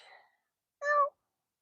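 A cat gives one short, clear meow close by, preceded by a faint brief sound, then quiet.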